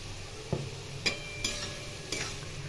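Poppy seed paste goes into boiled bitter gourd and potato for Bengali uchchhe posto, giving a soft low sizzle broken by four sharp spoon knocks against the pan.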